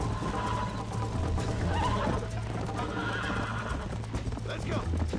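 Horse neighs and whinnies over galloping hoofbeats during a horse race in Red Dead Redemption, loud and close, with the hooves pounding steadily and a few whinnies rising above them.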